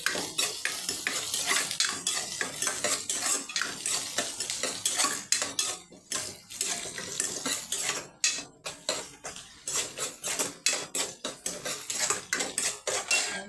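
A ladle scrapes and clatters rapidly against a pan while vegetables sauté in oil, busy repeated metallic strokes at close range over a soft sizzle, continuing throughout without talking.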